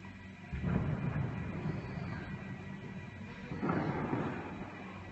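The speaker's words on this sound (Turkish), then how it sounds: "Top atışları yapılıyor burada." Two deep, rumbling artillery booms, one near the start and another about three seconds later, roll out from far off over a low steady background in Cizre, Turkey.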